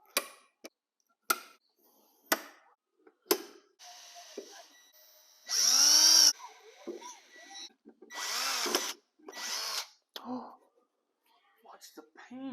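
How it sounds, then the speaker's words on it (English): A power drill whines in several bursts of a few seconds each, drilling 3/16 bolt holes for a seat installation, mixed with sharp taps and clicks and a soft voice in between. "So I'm going to drill the holes"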